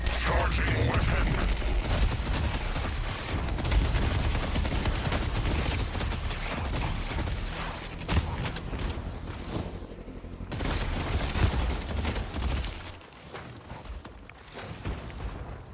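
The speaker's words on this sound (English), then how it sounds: "Charging weapon." Weapon charging up and firing in the video game Deadlock, a fast fusillade of gunfire and mechanical clatter with bursts and short lulls, mixed with game noise.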